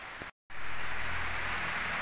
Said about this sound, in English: Well, we're taking cover, it's raining.